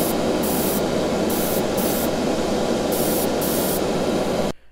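A final wet coat of spray paint going onto a restored Hot Wheels Redline Classic '55 Nomad: a steady, close aerosol hiss runs for over four seconds with brief flickers in its upper edge, then cuts off abruptly.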